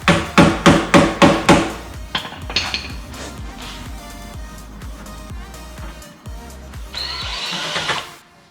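Hammer strikes ring out in a workshop on a Jeep Wagoneer front end: six loud, evenly spaced blows, then a scatter of lighter taps and a final grinding rasp.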